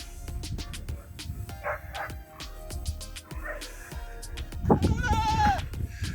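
A goat bleats on a Jamaican farm, giving several wavering calls that end in a loud, drawn-out bleat near the finish, with scattered clicks and thumps around it.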